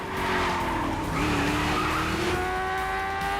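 Cars skid and squeal their tires in a John Wick: Chapter 2 film car action sequence. The smeared tire screeches are loud and continuous, with engine roar underneath and no talk.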